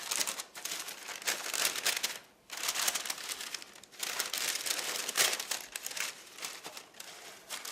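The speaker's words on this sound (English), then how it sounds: "now we're going to go ahead and add our parchment paper to it" Parchment paper being crumpled and pressed into a baking pan, loud close crinkling in long bursts with a few brief pauses, dry rustles and crackles filling the whole stretch.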